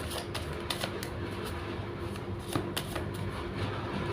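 Tarot cards are shuffled and handled, giving a run of crisp papery flicks and riffles, close and fairly quiet over a soft hiss, with no one speaking.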